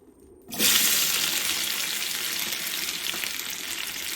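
Taro pieces drop into hot oil and set off a sudden loud sizzle, which then keeps crackling steadily at close range.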